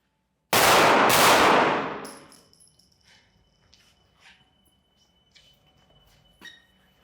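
Two loud, close gunshots crack in quick succession at targets during danger-close firearms training, each ringing out in a long fading echo, followed by faint metallic clinks.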